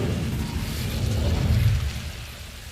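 A fire spell, Incendio, cast in the video game Hogwarts Legacy: a low, rumbling burst of flame that swells for about two seconds and then slowly fades, with no talking.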